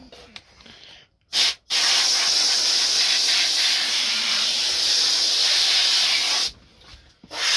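Water sprays onto weed control fabric laid over watering mats, a loud steady hiss lasting several seconds, preceded by a short burst and cut off near the end.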